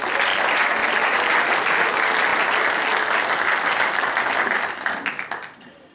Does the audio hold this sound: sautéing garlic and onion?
no